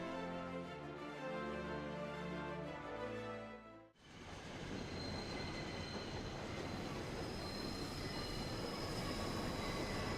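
Train arriving in the Final Fantasy XIV game, with a loud sustained rumble and squealing wheels; a tonal drone gives way to steady rolling railcar noise.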